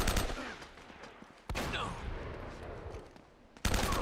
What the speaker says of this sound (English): Sniped with a shotgun.